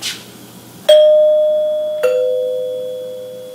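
A serviced 1939 NuTone Model B two-note door chime rings, one bright ding followed about a second later by a lower dong, both clear and close with tones ringing on and slowly fading.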